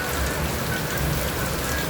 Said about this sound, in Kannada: ಫುಲ್ಲು ಮಳೆ ನಮ್ಮ ಮನೆ ಹತ್ರ